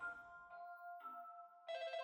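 A telephone rings on and on, its electronic tone repeating in steady bursts with no pause, clear and alone.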